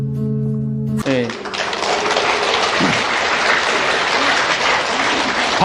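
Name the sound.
audience clapping during a lecture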